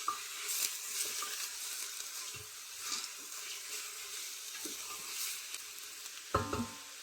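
Bone-in meat sautéing in a Fissler pressure cooker, with a steady close sizzle broken by repeated scraping stirs against the pot and a sharper knock near the end.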